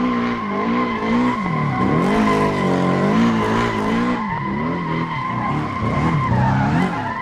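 A Porsche 718 Boxster with 350 horsepower drifting in the Assetto Corsa racing game, its tires squealing loudly and continuously over a wavering engine note for the whole stretch, with no talking.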